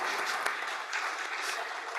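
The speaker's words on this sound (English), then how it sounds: "Now I'll ask for the big round of applause and a thank you to all those." Steady round of applause from the attendees of a spring evening meeting, moderately loud and continuous for its whole length, with no voices over it.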